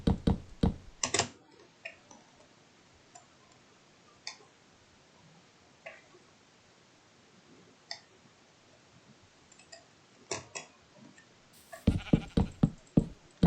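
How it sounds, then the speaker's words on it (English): Blocky Minecraft sheep bleat in short, loud bursts at the start and again near the end, with quieter scattered clicks and ticks in between over a faint game background. "Yes, hello sheep"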